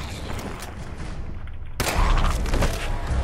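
Gunfire against a legendary enemy in the video game Fallout 4, beginning as a steady noisy rattle, then a sudden loud blast and heavier, sharper volleys that continue to the end.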